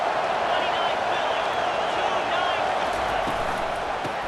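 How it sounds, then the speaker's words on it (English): Stadium crowd in EA Sports College Football 25, Texas at Michigan, a dense, continuous roar of cheering that holds steady and loud from start to finish. "This crowd knows when to bring it."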